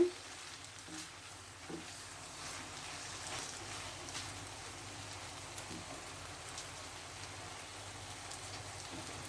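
Beef chow mein with tomato sauce is stirred in a frying pan, a soft continuous sizzle with faint scraping and occasional light knocks, steady and fairly quiet throughout.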